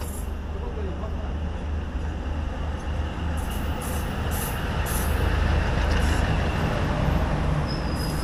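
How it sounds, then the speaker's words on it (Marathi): A local train approaches from the front on a rail journey in Kashmir, its steady low rumble and broadband roar rising slightly louder over several seconds, heard from onboard another train. "समोरून आणखीन एक लोकल येते आहे"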